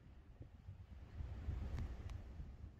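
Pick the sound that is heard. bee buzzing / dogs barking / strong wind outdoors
strong wind outdoors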